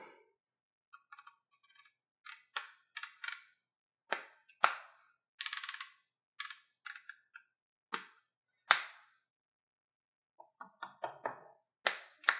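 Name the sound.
clicking windage turret on rifle scope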